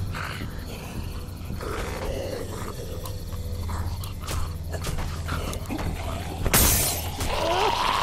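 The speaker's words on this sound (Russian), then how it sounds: "Фарфор внутри, те штуки разбивают окна машины вдребезги." A car window bursts apart after being struck with spark plug porcelain in The Walking Dead video game, a sudden loud crash late on over a dense game soundscape with growls and ambient noise.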